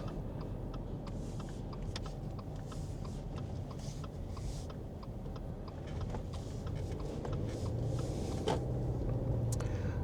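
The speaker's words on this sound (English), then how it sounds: "The car sounds great today" A Subaru Forester cruises along Ocean Parkway, heard from inside as a steady, quiet low road-and-engine rumble with faint ticks and light swells, and no talking.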